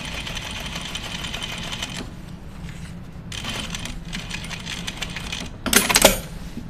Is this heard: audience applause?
no